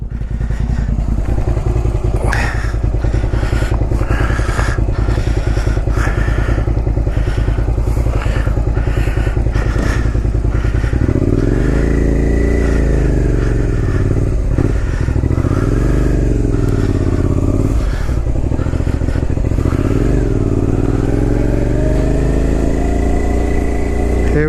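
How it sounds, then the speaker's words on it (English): A 2001 Suzuki SV650S motorcycle with front fairing and a Whole Shot aftermarket exhaust, loud and close throughout: a steady rumbling idle, then repeated revs that rise and fall as it pulls away, with clattering bumps over the engine. "There it is, 2001 Suzuki SV650S with the front fairing. Going for a ride, whole shot exhaust."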